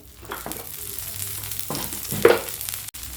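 Kambu (pearl millet) adai batter frying in oil on a pan, a soft continuous sizzle close by with a few brief scraping stirs, no talking.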